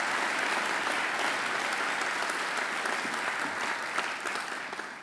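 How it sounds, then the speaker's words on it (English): Graduation attendees clap for alumni volunteers in a broad, continuous round of applause from a large crowd, even and sustained before tapering off. "I think they deserve a great round of applause too."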